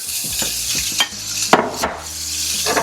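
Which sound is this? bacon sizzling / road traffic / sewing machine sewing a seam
bacon sizzling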